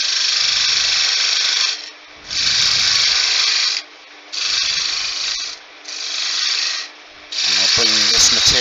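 A wooden candlestick spindle turning on a woodturning lathe, with loud, bright cutting whine in repeated bursts of about one to two seconds separated by short pauses.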